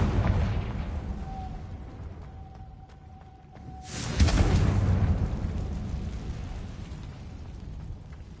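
A Confringo fire-blast spell from Hogwarts Legacy erupts in a sudden heavy boom midway, after a quiet stretch with a faint thin tone, then rumbles and decays into a lingering roar.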